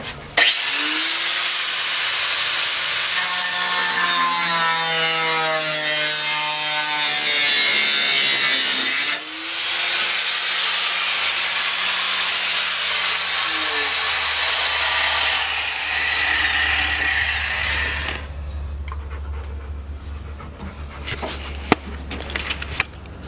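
A power tool cuts through metal on a Nissan 240sx hatch during a V8 engine swap, a loud harsh whining grind with a pitch that wavers, then stops and leaves a low hum and scattered clanks.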